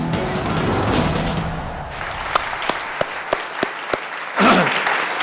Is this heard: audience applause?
yes